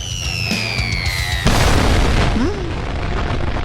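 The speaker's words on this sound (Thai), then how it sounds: "มันก็คือระเบิด" A sudden loud boom at about a second and a half, followed by a sustained rumbling blast that fills the rest of the clip with no talking.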